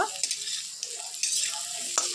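Potatoes frying in a pan of oil in a home kitchen, a steady close hiss and crackle with scattered pops throughout.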